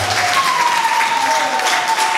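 A church congregation at a CMF gathering breaks into loud, dense, sustained applause that fills the room without a break. A steady held tone runs faintly through the clapping.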